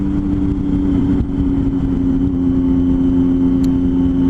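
Triumph Tiger 800 triple-cylinder motorcycle engine held at a steady, loud high-revving drone, close and continuous, with no speech.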